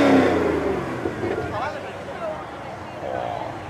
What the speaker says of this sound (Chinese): 踩两脚油，让大家看一下。